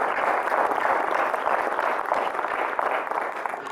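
An audience claps for an outgoing president at a society meeting, a steady, moderately loud wash of applause filling the room without pause.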